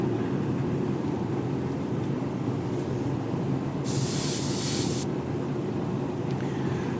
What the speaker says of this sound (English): Okay, I can spray it like this.